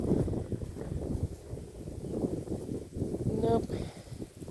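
Steady wind buffets a microphone beside a road, a continuous low rumbling roar throughout, with a person talking over it.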